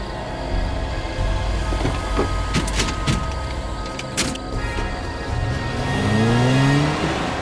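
A car idles and then pulls away on a road in a TV crime drama scene. The engine hums steadily and rises to a louder rev near the end.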